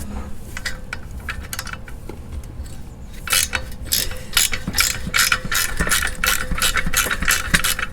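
Close, quick ratchet clicks in repeated bursts as a nut is loosened on the exhaust of a 2021 Honda CRF110 dirt bike, louder and steadier in the second half, with no talking.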